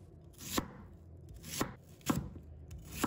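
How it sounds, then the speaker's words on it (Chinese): A kitchen knife cuts half an onion into small dice on a cutting board. The chops come as a handful of sharp, close, separate thuds spaced irregularly, and a quieter scraping sound runs between them. Nobody is speaking. "再准备半个洋葱，先把头尾切掉，再切长条，然后切成小粒"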